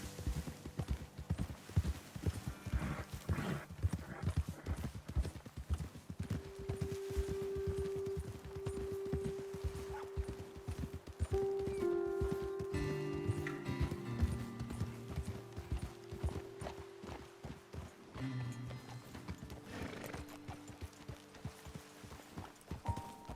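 Horses' hooves clip-clop steadily while riding in Red Dead Redemption 2, a busy rhythmic patter of several horses close by, with a whinny and faint voices mixed in.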